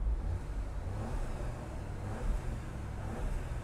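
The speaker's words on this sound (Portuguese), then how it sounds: "Será que tem barulhinho esse carro? Vamos dar uma aceleradinha?" An Audi A3 Sportback's engine is revved while parked, giving a steady, close, deep rumble that swells slightly near the end, with no one speaking.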